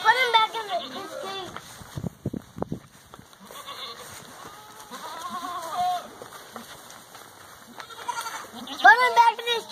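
Goat bleating in repeated wavering calls at the start and end, fairly close, with children talking and shouting around it on a farm.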